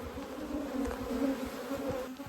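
Honey bees from mountain hives buzzing steadily around the boxes on a dry, hot day, a continuous close hum with a low-pitched drone and occasional nearer passes, no talking.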